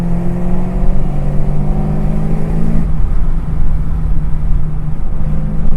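A 690 rear-wheel-horsepower Chevrolet Camaro ZL1 engine revs hard under acceleration, a loud close rising drone that drops briefly at a gear change and then climbs again.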